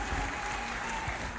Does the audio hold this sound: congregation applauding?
yes